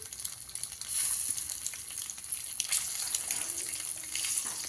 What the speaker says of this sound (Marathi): तर ह्याच्यामध्ये असे अंडे हे करून की फ्राय करून घेऊया आपण